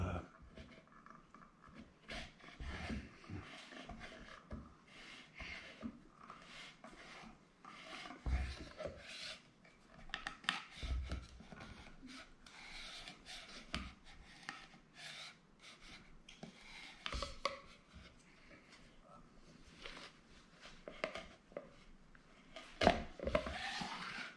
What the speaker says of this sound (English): That's the grain of the wood being sliced away.